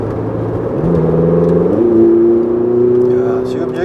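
Ferrari 488 GTB accelerating hard on a race track, the engine note climbing steadily through the revs with a rising tonal whine, loud and close from inside the car, with no speech over it.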